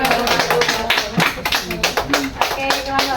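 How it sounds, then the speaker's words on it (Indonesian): Students in a microteaching class clap together in a quick burst of sharp, scattered hand claps, close by, mixed with voices talking over the clapping throughout. "Beri tepuk tangan."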